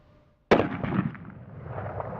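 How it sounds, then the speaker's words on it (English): A single loud rifle shot from a Savage rifle fitted with a scope cracks out sharply after a moment of near silence. It is followed by a rolling, fading echo, with no talk. "I'm going to go ahead and shoot one off here"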